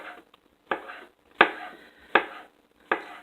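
Mushrooms being sliced with a knife on a cutting board, four crisp evenly spaced chops close up, with quiet pauses between them and no talk.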